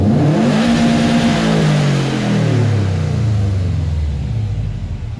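A car engine revs hard in a garage during a coilover install, a loud close roar with pitch climbing and sliding back down across several seconds, no voices.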